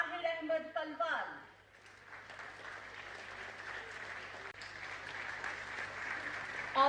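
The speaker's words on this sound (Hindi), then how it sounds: "हौसलों भरी ये जोरदार तालियां यूं ही चलती रहनी चाहिए" A voice speaks briefly, then an audience breaks into sustained, steady applause that carries on for several seconds.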